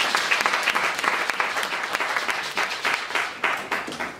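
A church congregation applauds after a scripture reading, dense steady clapping from many hands filling the room throughout with no break.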